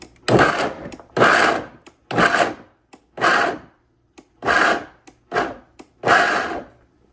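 A Vitamix blender pulses carrot pieces in about eight short, loud whirring bursts, separated by brief pauses of silence.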